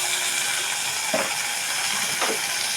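Tomato and other ingredients with salt and turmeric sizzling in a pan, a constant hissing fry with two soft spatula scrapes about a second apart, no voices.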